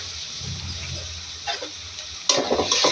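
Lentils with salt, sugar, turmeric, chilli and paste being stirred in a hot pan, a steady low sizzle with scraping strokes, then a louder burst of frying as more goes in, close and without talk.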